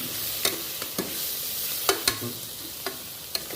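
Masala for a beef-free tapioca biryani fries in a pan while being stirred, a soft constant sizzle broken by sharp spoon scrapes and clicks against the pan at an uneven pace.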